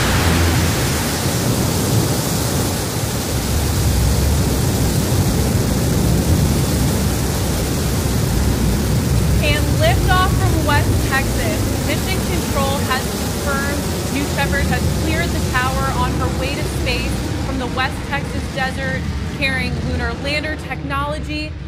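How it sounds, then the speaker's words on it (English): A Blue Origin New Shepard rocket engine roars at liftoff on the NS-17 mission, a loud, broad, continuous rumble that holds steady throughout, with talk layered over the second half. "we're gaining speed as New Shepard lifts off towards space"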